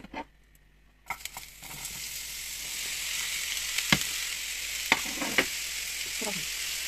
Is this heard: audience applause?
no